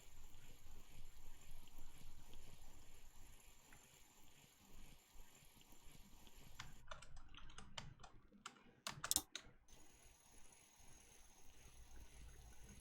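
Very faint computer keyboard typing, a few soft scattered key clicks under low background hiss, with one short louder cluster of clicks near the end.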